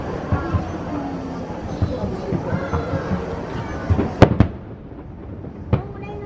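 Fireworks at the Itabashi fireworks festival in Tokyo, with a steady stream of distant crackling and several sharp, loud bangs, one cluster near the middle and another toward the end, over a murmuring crowd.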